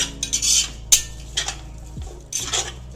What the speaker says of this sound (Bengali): যে ফুলকপিগুলো কেটে রেখেছিলাম সেই ফুলকপিগুলো দিয়ে দিচ্ছি। একটু নাড়াচাড়া করি।